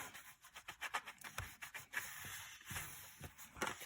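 Paper is burnished down onto a mini album page, giving soft, scattered rubbing strokes in short uneven bursts, faint and close, with no talking.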